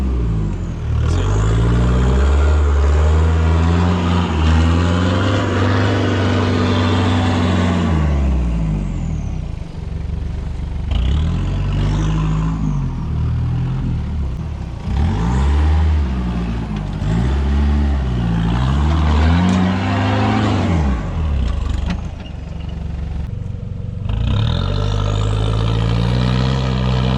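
Nissan Patrol GU 4WD with an LS engine revving hard in a double rut on a muddy bush track, engine note rising and falling in repeated loud surges as it strains to climb out, close and continuous with no talk.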